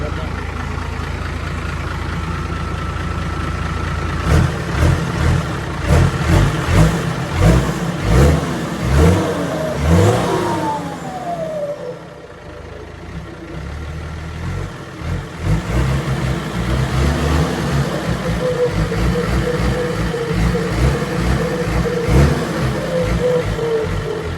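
A car nicknamed Khun Ngoen fires up after a mechanic's repair and revs hard several times, the engine note rising and falling loudly close by, then settling into a steady idle while people talk over it.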